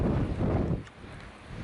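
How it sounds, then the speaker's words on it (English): Wind gusts near Green Valley on the Pacific Crest Trail rumble against the microphone, loud at first and then easing off into a softer, steady blowing. "Just leaving Green Valley area where Casa De Luna is, and it's windy"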